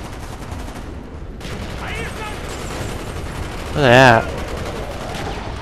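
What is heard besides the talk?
gunfire in video game Call of Duty Black Ops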